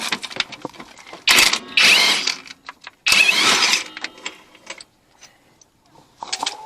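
Metal scraping and clanking as a stubborn bolt is worked loose during a rear strut replacement on a 2007 Scion tC, with two loud bursts of grinding effort between quieter ticking and tapping, close up.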